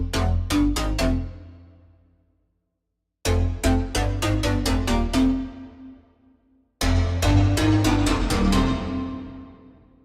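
Reverb-only signal from a send return channel, three bursts of quick plucked, bell-like notes each trailing into a wash of decay that fades toward silence between groups.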